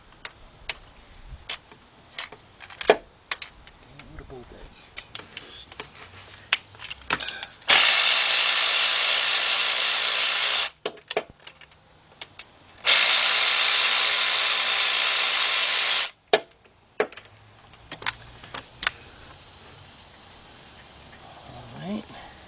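A cheap cordless impact gun works on 10mm bolts during a timing chain job on a GM V6 engine, giving two loud sustained bursts of about three seconds each, set among clicks, ratchet ticks and clanks of tools.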